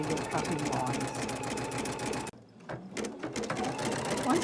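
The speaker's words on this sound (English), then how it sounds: "it will stitch around the outer edge of the placemat, first with a running stitch and then with a zigzag stitch" An in-the-hoop embroidery machine stitches a running stitch around the outer edge of a placemat, its rapid needle hum steady and close, with a brief pause partway through before it resumes.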